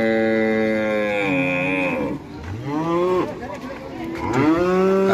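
An injured cow with a broken leg moos in long, drawn-out calls, three separate lowing cries close by and loud, with no talk over them.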